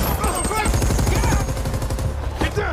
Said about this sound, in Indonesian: ada pasukan pemberontak dari anak buah Viktor Koval yang sudah mengintai dari gedung dan menembak